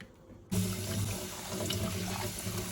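Hot tap water suddenly starts and runs steadily over rice being washed in a kitchen sink, a close, continuous splashing rush after a brief quiet start.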